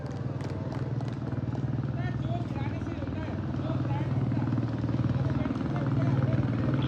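Motorcycles rumble past on a road, a dense low engine drone that builds slightly over a few seconds, heard beneath nearby voices and general street babble.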